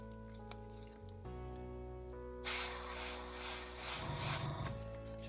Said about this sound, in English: I'll hold it this time and just again spray in the post-it note, let it go over